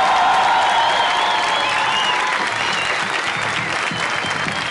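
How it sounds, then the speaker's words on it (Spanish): A studio audience at a live comedy show gives the comedians a dense, loud burst of applause, sustained and close, with some cheering and faint music underneath. "un aplauso para los comediantes del día de hoy"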